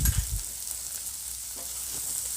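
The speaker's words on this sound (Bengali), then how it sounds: "খুব ভালো করে এখন নাড়ব" Chopped tomato and spices sizzling in a frying pan while being stirred, a soft continuous fry with a few scraping stir sounds early on, fairly quiet and with no voices.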